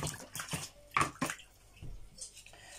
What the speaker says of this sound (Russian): Тут у меня тазик с водой стоит,